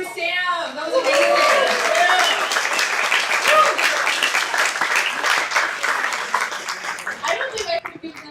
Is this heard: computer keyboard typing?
no